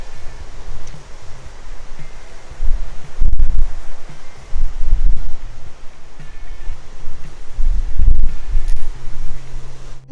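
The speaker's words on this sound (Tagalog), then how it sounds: "adiri grabe hangin Joy" Strong wind buffets the microphone at an outdoor viewpoint near Sønderborg castle in Jutland, loud gusting rumbles rising and falling in waves with a steady rushing hiss throughout.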